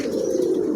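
A King pigeon offered for sale coos close by in one steady, loud, throaty murmur, heard alone without voices.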